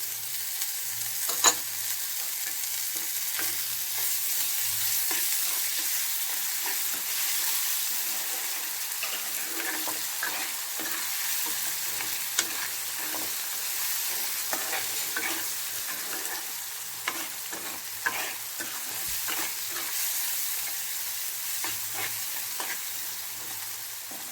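Chopped dill leaves stir-fried in a pan for a lentil palya, a steady sizzle with scraping stirs and small clicks running throughout, close by, with no talking.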